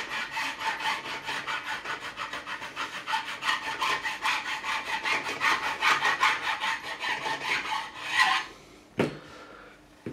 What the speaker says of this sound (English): I'll take the file and I'll just angle it away slightly from the fingerboard, and I will just remove these burrs from the edge